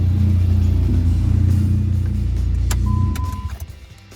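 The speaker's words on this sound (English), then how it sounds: "Car sounds pretty good. It crackles a lot." A 2005 Dodge Neon SRT-4 ACR engine runs with a loud, steady exhaust rumble close by, then is shut off and fades into a few irregular crackles and pops.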